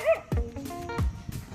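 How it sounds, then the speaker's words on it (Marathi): A small puppy barks at cows nearby, giving two sharp high yips about half a second apart with faint whimpering between them, close and fairly loud, alone without speech. "गायांना बघून हा कुत्रा भुकतोय"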